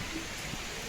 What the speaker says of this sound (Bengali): এখানে এসে বৃষ্টি শুরু হয়ে গেল একবারে।